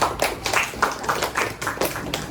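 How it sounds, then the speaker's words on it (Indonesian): Students in a classroom clap for a group that has just presented, with a modest, fairly rhythmic burst of hand-claps at close range. "Tepuk tangan untuk kelompok 3."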